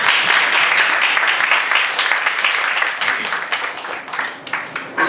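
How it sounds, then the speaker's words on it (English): Sustained audience applause at a club anniversary dinner, a dense wash of many hands clapping loud and steady for about five seconds, tapering slightly near the end. "So I think we all deserve a big round of applause."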